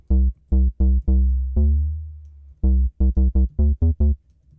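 A deep house synth bass preset in FL Studio plays a choppy pattern of short, deep, buzzy notes with one longer held tone and a brief gap, loud and dry, with no voices.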